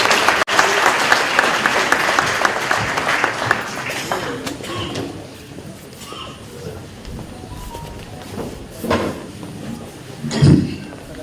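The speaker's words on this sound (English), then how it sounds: "A warm round of applause for Ndade Chilwani." An audience at a school re-classification launch bursts into loud, dense applause that fades after a few seconds into scattered claps, shuffling and light movement noises.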